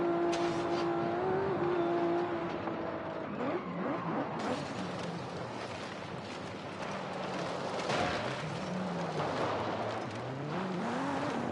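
A 1998 Toyota Supra RZ in Forza Horizon 5 roars and revs hard, its loud engine note rising and falling continuously with a rasping exhaust edge throughout.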